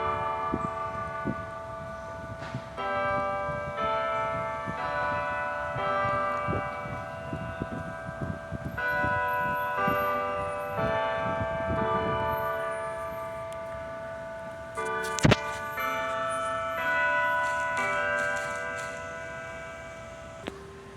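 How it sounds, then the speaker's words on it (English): A church bell chimes eleven times, steadily with long ringing overtones, strikes repeating at a slow even pace, moderately distant, with no voices. "the bell was going to chime 11 times"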